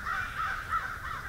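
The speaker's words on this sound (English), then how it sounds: "Alright, the crows saw me." Crows caw in a winter woodland during a squirrel hunt, a quick run of harsh calls at moderate distance over steady background noise.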